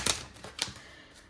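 Paper money bills shuffled quickly by hand, a few crisp riffling bursts close to the microphone, loud and sharp, with no talking.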